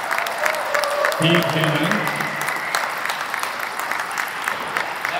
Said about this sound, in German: Nochmal einen großen Applaus für Fabian.